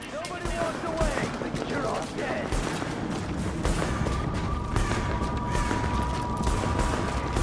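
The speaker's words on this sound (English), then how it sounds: "Someone's shooting at us." Gunfire in the video game The Division, a steady, dense crackle of distant shots and rattling bursts running through the whole stretch, heard under people talking throughout.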